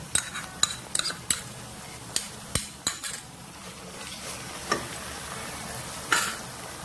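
Ginger and garlic paste hitting a pan of frying chicken, a quiet sizzle punctuated by a series of sharp metallic clicks and taps of a spoon against the pot, close up.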